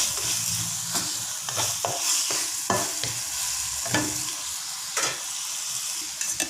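Peas go into a hot pan for fried rice, bringing a steady sizzle with several sharp spatula scrapes and clanks against the pan as they are stirred, close and fairly loud.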